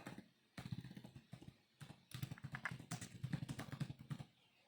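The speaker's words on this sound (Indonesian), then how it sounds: "Kemudian ini kita ketik dulu." Fingers typing on a computer keyboard, quick irregular runs of close, crisp key clicks with brief pauses between bursts.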